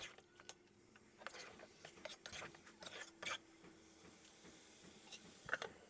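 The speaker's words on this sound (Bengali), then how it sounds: "তারপর বালা করে লাড়ি চাড়ি ওগুন থেকে কষানি লাগবো।" Beef with spices being stirred and fried in a pot: soft scraping and clinking of a utensil against the pot in scattered bursts over a low sizzle, fairly quiet and close, with no talking.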